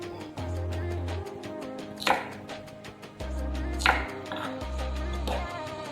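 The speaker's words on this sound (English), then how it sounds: "we're gonna cut this and put inside, and I have these 2 garlic" Garlic cloves are cut with a knife on a chopping board for chicken rendang. Several sharp, close knocks land at irregular intervals over a steady background hum, with no talking.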